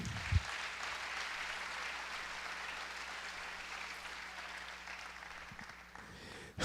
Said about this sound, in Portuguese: Quem pode dar salva de palmas para o Senhor?